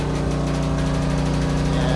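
A motorcycle engine runs close by with a steady, loud mechanical rumble at a parking area, continuous over the two seconds.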